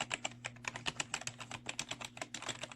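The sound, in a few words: typing on Sumvision Seeker Destroyer gaming keyboard keys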